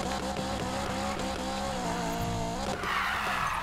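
Car drifting with sustained tire squeal and engine whine in Need for Speed Payback, the racing video game, with a loud continuous skid that wavers in pitch alongside game music and a brief burst of noise near the end.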